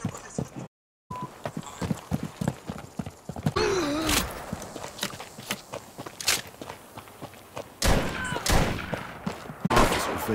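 Horses' hooves clip-clop steadily in a radio drama about a gold robbery, with a whinny, scattered gunshots and louder bursts of action layered over the hoofbeats, which range from near to a little farther off.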